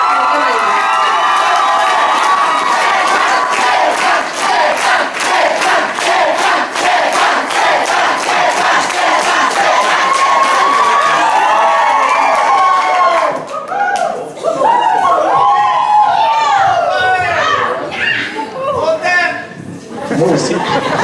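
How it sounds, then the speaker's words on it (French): Graduation ceremony crowd at a school in Princeville applauding and cheering for an honoree, loud sustained clapping with shouts and whoops, then voices continuing over the dense cheering. "j'aimerais qu'on l'applaudisse très fort de ma part"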